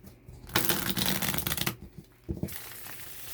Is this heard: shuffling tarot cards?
yes